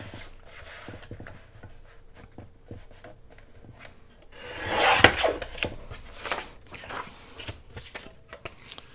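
A cardboard toilet paper roll is cut by hand, with soft scraping and rubbing that swells into a louder crunching burst partway through, then eases into scattered small handling noises.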